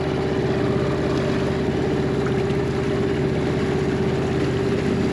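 An outboard boat engine idles steadily after its gummed-up carburetor jets were cleaned, a loud continuous throb with a fast, even pulsing rumble and no popping or missing, running alone close by.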